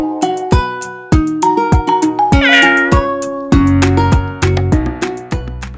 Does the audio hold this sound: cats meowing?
yes